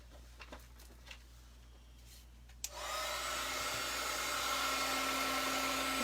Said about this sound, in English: Bring out the heat gun.